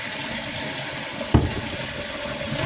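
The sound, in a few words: running tap water washing pans in the sink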